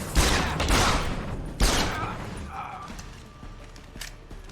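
Gunfire in Deus Ex: Human Revolution: a close, loud burst of several shots at the start, then a second sharp shot, fading into quieter clanking and rattling afterward.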